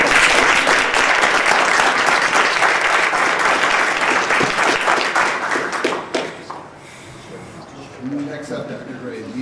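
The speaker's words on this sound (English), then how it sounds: "That's applause." At a school board meeting, the room breaks into loud, close clapping that holds for about six seconds, then tapers off into quieter murmurs and a voice.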